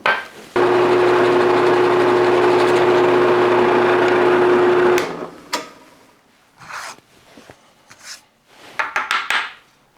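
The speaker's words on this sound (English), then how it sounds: "But I have a drill press, so I'm going to use that." A drill press motor runs steadily for about five seconds while boring a hole in wood, a loud sustained whine with a steady hum, then stops, followed by scattered quieter bumps and handling noises in the workshop.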